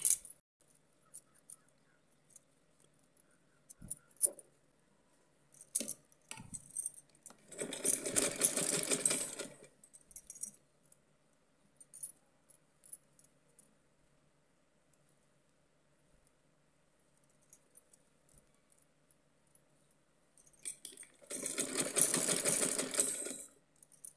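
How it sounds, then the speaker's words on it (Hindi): Sewing machine stitching fabric for a small Radha idol dress, running in two clear bursts of rapid mechanical whirring a few seconds long, separated by near silence with scattered small clicks and handling noises. "इस तरह से उल्टे साइड से इसकी सिलाई पहले हम शुरू करेंगे"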